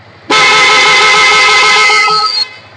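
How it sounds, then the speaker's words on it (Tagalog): Honda ADV 350 scooter horn sounding in a single steady, loud, close blast lasting about two seconds, then cutting off abruptly. "Okay, sa horn naman."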